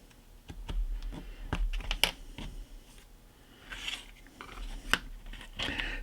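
Scissors or a hobby knife snipping a tab off a 3D-printed plastic sci-fi accessory, a series of sharp close clicks and snips spaced irregularly over quiet handling noise.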